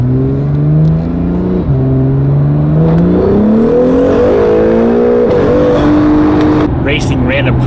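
A Mitsubishi Evo accelerates hard onto a highway while racing other cars, its engine note climbing steadily through gears with brief drops at shifts, loud and close, droning continuously throughout.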